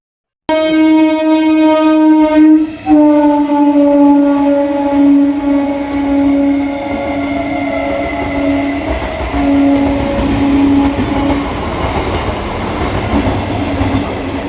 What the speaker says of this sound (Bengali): তো দেখেই নিলে ট্রেন